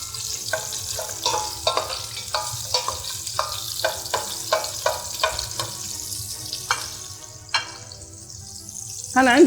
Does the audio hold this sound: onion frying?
yes